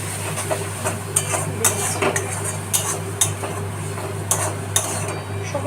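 Spice masala for mutton curry stir-fried in a pan, with a steady low hum under regular clinks and scrapes of a spoon against the metal and a light sizzle, and no talk.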